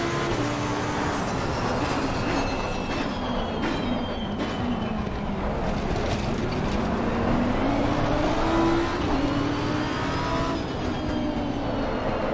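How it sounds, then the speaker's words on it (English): Mercedes GT race car in Assetto Corsa Competizione, its engine droning loudly and steadily with rising and falling pitch as it runs alongside in a GT race, layered with other car noise and no talk. "Iconic Mercedes sound there."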